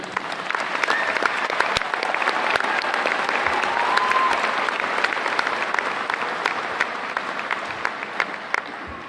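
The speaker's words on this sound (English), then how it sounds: "Let's give your family and friends a round of applause to thank them for all they have done." An audience at a high school commencement ceremony applauds steadily for about nine seconds, a dense, continuous wash of clapping from a large crowd with no talk over it.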